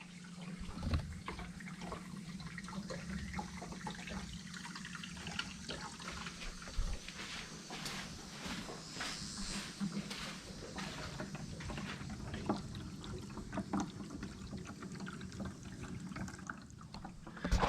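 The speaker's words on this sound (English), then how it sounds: "So we can hear the water entering the pipes." Water rushes into household plumbing pipes during a pressure test, a continuous low gurgling flow with splashing and ticking bursts, moderately faint and steady throughout with no talk.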